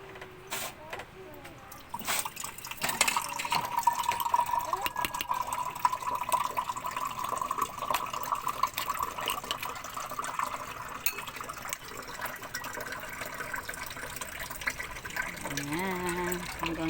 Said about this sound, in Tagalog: lagyan pa natin ng konting tubig